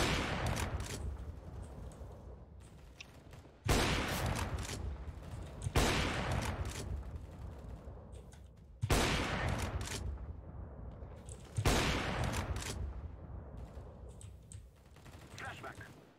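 Bursts of gunfire in Counter-Strike on the Dust 2 map, with several loud volleys arriving at irregular intervals and each decaying away, while players chatter underneath.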